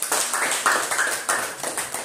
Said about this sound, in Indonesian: Bagus sekali, tepuk tangan untuk Agus.